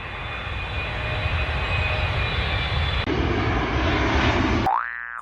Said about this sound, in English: A for airplane